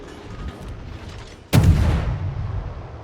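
A single heavy boom from the Haida destroyer's guns firing in World of Warships, sharp and loud, with a rumbling tail that fades slowly over quieter background hum.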